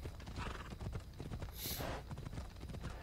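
Horse hooves clip-clop steadily in Assassin's Creed Odyssey as the horse is ridden, a dense continuous trotting rhythm with a brief whinny partway through and no speech.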